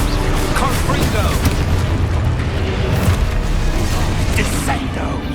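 Heavy booming blasts from a Confringo fire spell in Hogwarts Legacy, loud and close, with rumbling low-end explosions and crackling debris running continuously through the clip.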